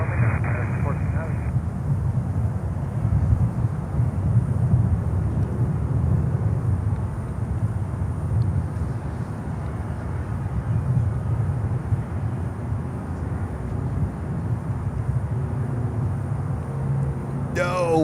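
Jet airliners landing and taxiing at Miami airport, a continuous low engine rumble and roar that holds steady throughout, moderately distant, with a brief higher whine near the start.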